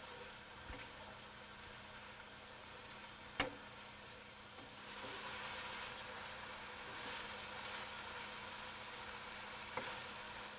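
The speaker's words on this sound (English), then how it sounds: "Let that saute." Vegetables sautéing in oil in a pot for Italian minestrone soup, giving a steady soft sizzle throughout with a few sharp clinks of a spoon against the pot.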